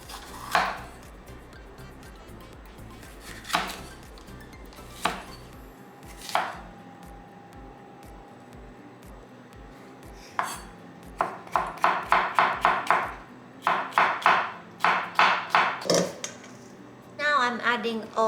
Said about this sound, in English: now I'm cutting paprika, this one